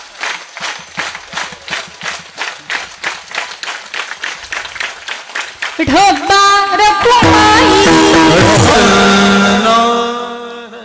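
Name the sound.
audience clapping together at a kirtan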